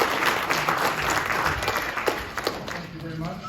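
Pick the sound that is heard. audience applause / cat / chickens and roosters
audience applause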